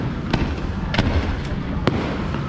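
Fireworks burst during a night ride on the Abyssus roller coaster at Energylandia, with several sharp bangs against a steady roar of wind and crowd noise, and excited voices faintly audible.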